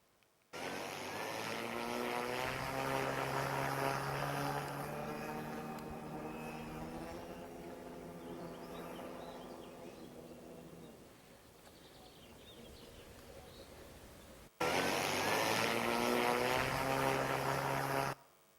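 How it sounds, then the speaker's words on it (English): A model aircraft propeller revs up with a strong, steady buzzing whine that slowly fades over about ten seconds, then cuts back in abruptly at full strength near the end. "if you listen very carefully to the propeller revving up"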